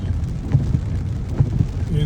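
Heavy rain falling on Highway 285 South in Atlanta, Georgia, while traffic sits stuck in a jam: a steady low wash of downpour and idling road noise, with a few dull thumps breaking through.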